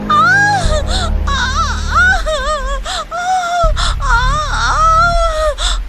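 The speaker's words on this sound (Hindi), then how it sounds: "दर्द भरी चीखें और रोने की आवाज" A woman wails and cries out in pain, loud anguished sobbing with rising and falling pitch that continues without a break.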